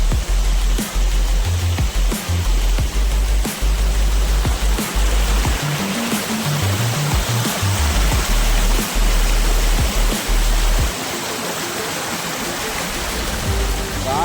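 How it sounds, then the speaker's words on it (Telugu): Fast-flowing water rushing over Chelimichenu waterfalls near Veeranamala Tanda in Kuppam, a loud, continuous roar with steady broadband wash close by, occasional low bumps and thuds underneath. "చాలా అంటే చాలా వేగంగా అవుతుంది గైస్ ఇక్కడ నీళ్ళు అయితే."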